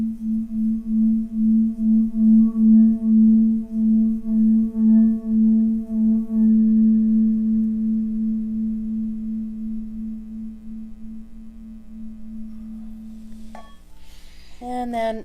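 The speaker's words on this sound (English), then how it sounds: "So we have the metal bowl, Himalayan bowl, Tibetan bowl." A Himalayan Tibetan metal singing bowl rings with a pure, sustained low tone that pulses slowly, then fades gradually before a brief clatter at the end.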